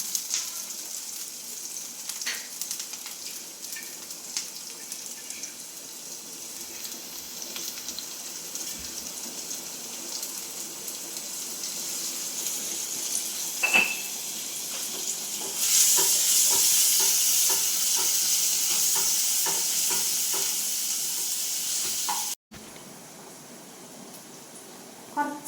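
Chekkurmanis greens fry in a pan for a vegetable thoran, giving a steady hiss of sizzling with occasional stirring clicks; the sizzle grows louder partway through, then drops suddenly.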